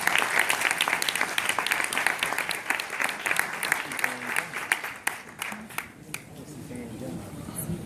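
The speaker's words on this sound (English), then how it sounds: "Give her a round of applause." An audience at a panel introduction claps steadily for several seconds, dense applause that thins and fades toward the end.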